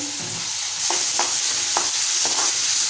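Onion and tomato being stirred in a hot pan for a Malvani clam masala, a continuous close sizzle with a few soft spoon scrapes spaced through it, no voices.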